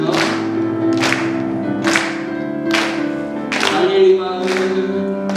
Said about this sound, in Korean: 박수 크게 치실게요